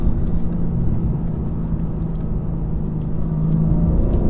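A 2020 BMW M4 Competition engine and exhaust drone steadily while driving, a continuous low rumble with a constant hum under cabin road noise, held at a near, even level with no talk.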